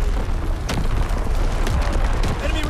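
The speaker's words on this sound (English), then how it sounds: "Incoming enemy artillery!" Enemy artillery explosions in the Call of Duty WW2 video game, a continuous loud barrage of heavy booms and rumbling blasts with sharp bursts, dense low-end roar filling the whole stretch under faint battle chatter.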